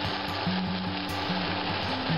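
Mushrooms in a pan with a little added water simmer and reduce on the stove, a steady soft sizzling hiss with faint bubbling that continues evenly and close throughout, with no voices.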